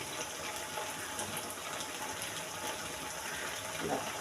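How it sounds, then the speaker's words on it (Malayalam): A steady stream of plain water pours into a cooking pot for a chicken curry, rushing evenly and close by, with a brief murmur of voice near the end. "കുറച്ചൊരു വെള്ളം ഒഴിച്ചാൽ മതി."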